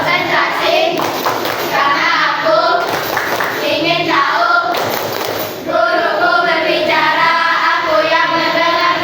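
Children in an Indonesian classroom clapping game clap in bursts in time with chanted phrases, loud and close, their group chanting and voices running over and between the claps.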